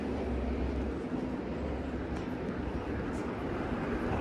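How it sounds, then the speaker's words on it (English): A steady, dense rumble of a passing subway train roars up through a ventilation grate on Yonge Street in downtown Toronto, loud and continuous with no breaks. "Okay, this must be the subway ventilator."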